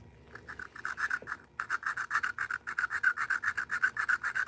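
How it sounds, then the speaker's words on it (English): Steady rhythmic rasping of a hand file stroking back and forth on metal during work on a Red Lever 026 chainsaw, like sharpening a chain; close and loud, with a short pause before the regular strokes resume. "keep your file level, you know, not, it's kind of like sharpening a chain"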